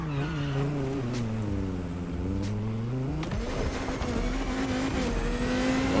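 A sports car drives fast on a Hawaii highway in The Crew Motorfest, its engine loud and close, rising in pitch then shifting gear and revving higher.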